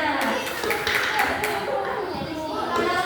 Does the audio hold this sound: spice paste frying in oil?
no